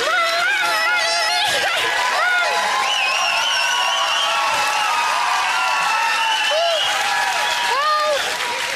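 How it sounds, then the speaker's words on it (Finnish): An audience claps loudly and continuously, with cheers and whooping voices over a steady wash of applause. "Omalla tavallaan annetaan isot aplodit."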